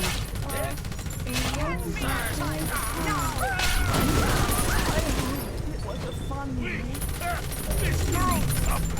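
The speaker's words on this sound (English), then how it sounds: "These auto turrets are really putting in work." Auto turrets in the video game BioShock 2 fire rapid bursts of gunfire, crackling and rattling almost without pause under chaotic combat noise, with voices and character cries mixed in throughout.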